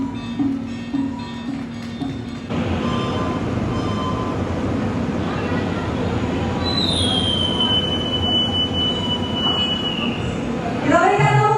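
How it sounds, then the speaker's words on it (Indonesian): The Sancaka Utara passenger train pulls away on its inaugural Surabaya Pasar Turi to Cilacap run, its rumble building as wheels squeal loudly and steadily against the rails, with a brief horn-like tone near the end. "Keberangkatan perdana kereta api Sancaka Utara relasi Surabaya Pasar Turi menuju Cilacap"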